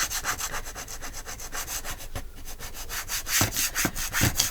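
Scrubbing at dried glue on a craft cutting mat, a steady close rasping rub with short back-and-forth strokes that grow louder and more forceful toward the end.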